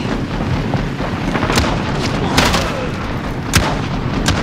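A FAL rifle fires on burst mode in a first-person shooter game: a few sharp, loud gunshot cracks spaced about a second apart, set against a dense, continuous rumble of battle noise with no talking.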